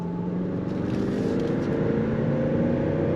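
2024 Range Rover Autobiography engine heard from inside while cornering, a steady low hum with faint road noise, continuous and even throughout.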